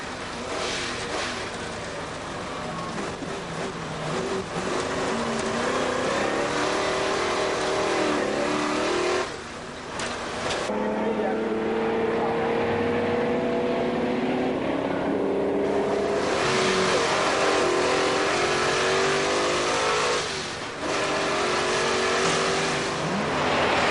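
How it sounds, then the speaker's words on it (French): Ford Mustang V8 race car driving hard, a loud continuous engine roar with rising harmonic sweeps through upshifts and revs, briefly easing off around gear changes before building again. "Jean-Claude Andruet nous emmène au cœur de la bagarre dans cette Ford Mustang à moteur 8 cylindres en V."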